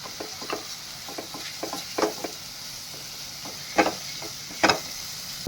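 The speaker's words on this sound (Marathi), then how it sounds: "तर आपण जे वाटण केलं होतं ते वाटण टाकून घेऊया." Ground coconut masala paste for a Konkan-style fresh cashew curry goes into a hot pan and is stirred, with a steady sizzle under scattered spoon scrapes and two louder clatters near the end.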